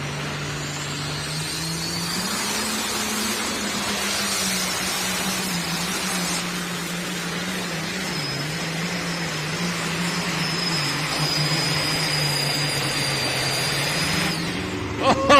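Pulling tractor with a 640 cubic inch limited pro stock engine and a 4.1 turbocharger, roaring loud and steady through a full pull, its pitch climbing and wavering as it strains, with a small crowd or announcer noise at the very end.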